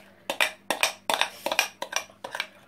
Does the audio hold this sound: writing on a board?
no